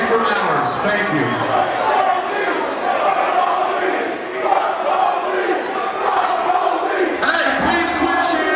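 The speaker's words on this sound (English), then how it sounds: "Hey, please quit cheering." A crowd cheering and shouting inside Jillian's during an evacuation, a dense, loud roar of many voices that holds steady throughout without a break.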